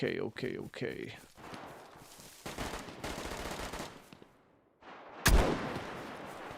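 Gunfire from a firefight in the survival video game DayZ, set on Hashima Island: bursts of shots and a sharp loud crack near the end, mixed with game noise and voices talking.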